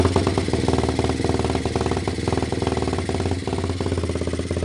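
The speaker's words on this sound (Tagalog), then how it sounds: "Pero hindi normal mga ka-idol yung andar niya. Palagpag po siya umandar." Kawasaki motorcycle engine idling roughly, a close, steady uneven chug with fast irregular pulsing and mechanical clatter throughout, no voices.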